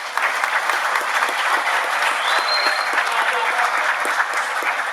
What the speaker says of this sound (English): Give yourselves the largest round of applause.